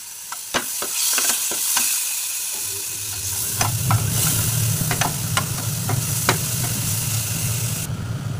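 Grated tomato drops into a hot spice paste for a raw banana curry, and a steady sizzle builds and hisses on while sharp scrapes and knocks of a stirring spoon hit the pan, close up with no talking.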